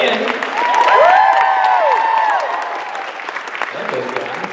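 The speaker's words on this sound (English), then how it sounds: "Another round of applause for the band." A crowd at a Supernatural fan convention panel claps for the band, with a few sustained whoops and a sung or held vocal tone ringing over the applause before it settles under a murmur.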